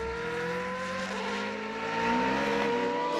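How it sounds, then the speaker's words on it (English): Race car on a wet track at Assen, engine revving with rising whining tones and shifting pitch as the wheels spin under power, loud and close throughout. "wheel spin as soon as Campana tries to get on the power"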